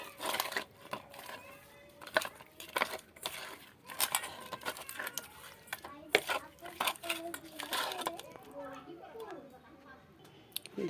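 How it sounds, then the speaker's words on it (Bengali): Rohu fish pieces are worked with salt by hand in a metal bowl, giving irregular clinks, scrapes and wet squelches in uneven bursts, with a person talking throughout. "এবার মাছটাকে ভালো করে মাখিয়ে নেব"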